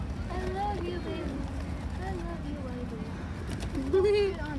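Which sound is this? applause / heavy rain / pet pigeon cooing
pet pigeon cooing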